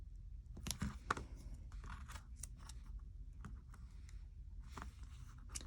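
Faint crisp snips of small scissors trimming around a paper planner sticker with washi tape, a scattered series of short cuts and light paper rustles, close and quiet with no talking.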